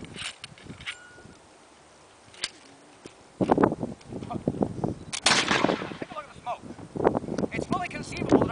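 A musket goes off in one sharp, loud blast partway through, followed by noisy rumbling and bursts that continue to the end, with voices around.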